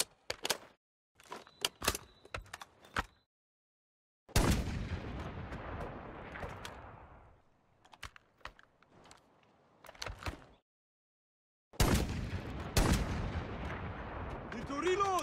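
Bursts of gunfire from a modern military gun add-on in Minecraft, sharp repeated shots in quick volleys broken by pauses, loud and close, with a few separate single cracks early on.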